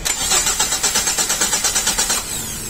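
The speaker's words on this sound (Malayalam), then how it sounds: "വണ്ടി ക്രാങ്ക് ആവുന്നുണ്ട് വണ്ടി, പക്ഷേ വണ്ടി സ്റ്റാർട്ട് ആവണില്ല" A Tata Indica diesel engine cranks without firing, a rapid rhythmic whirring of the starter with even pulses for over two seconds, close and steady, never catching.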